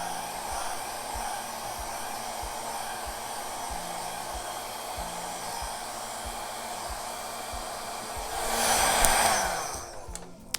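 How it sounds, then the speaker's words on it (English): A blow dryer used on an acrylic pour painting hums steadily and close for several seconds, growing louder briefly near the end before cutting off. "I'm going to use the blow dryer"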